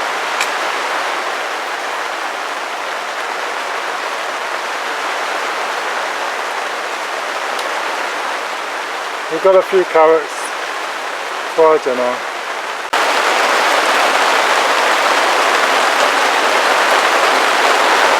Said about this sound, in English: Well, the rain is certainly coming down now